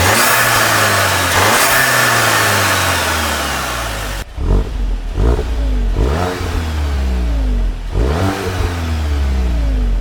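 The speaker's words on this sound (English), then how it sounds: "I'm gonna go ahead and get a sound clip so you guys can hear what it sounds like before and after." A VW MK8 GTI with its factory airbox revs hard, the engine climbing and falling in several loud, close rev blips with a turbo whoosh, alone without speech.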